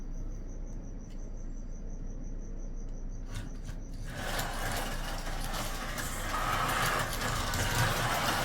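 Carrera GO Ferrari slot car whirring around a plastic track, a faint buzz at first that swells into a louder, steady rushing whine as the car speeds up, with no voices.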